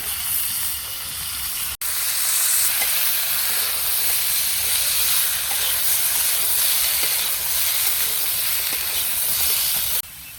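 Onion, potato and other vegetables frying in a pan in a village kitchen, a continuous loud hissing sizzle close by with a brief break early on.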